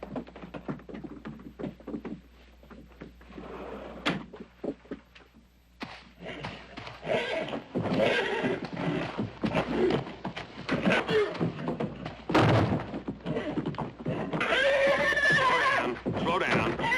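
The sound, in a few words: horse stomping and kicking in a stall, neighing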